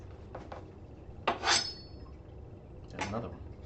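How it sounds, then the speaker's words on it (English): Knife chopping potatoes on a cutting board in a home kitchen, a few soft clicks followed by two louder scraping cuts spaced about a second and a half apart, close and fairly quiet. "Here's a good knife noise for you."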